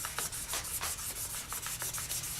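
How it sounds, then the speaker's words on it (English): Sandpaper rubbed back and forth over a coral cane bracelet, a close, quiet, rhythmic rasping with quick repeated strokes and no voices. "You are also going to sand the top, and you're also going to sand the bottom."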